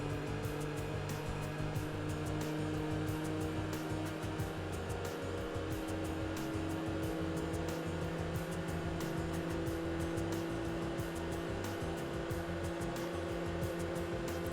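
Race cars in the Enthusia video game lapping the Nordschleife, a steady loud engine drone with layered tones holding throughout, one car closing in and overtaking alongside.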